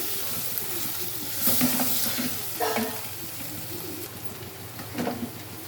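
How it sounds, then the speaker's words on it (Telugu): Chicken pieces sizzle in a hot pan with onions and turmeric, a constant close frying hiss with a few louder bursts and stirring scrapes; birds coo faintly in the background. "చికెన్ వేసుకుంటున్నాను"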